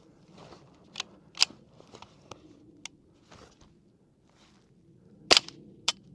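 Suppressed .22 rifle with a HuxWrx Flow 22Ti suppressor fires a string of sharp, quiet cracks with irregular spacing, a few louder reports standing out among softer clicks and faint handling noise.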